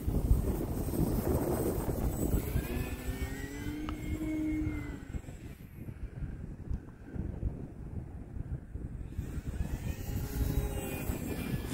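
An E-flite Extra 300 RC aerobatic airplane (1.3 m) flies in gusty wind, its electric motor whining and shifting pitch, then dropping away almost entirely before revving back up, with wind buffeting the microphone throughout.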